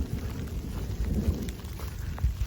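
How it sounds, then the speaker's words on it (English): Thunder rolls over the Appalachian Trail near Old Baldy during a hike: a deep, continuous rumble with a light patter like rain. It sounds fairly close, with no talking. "I'm stopping so you can hear the thunder."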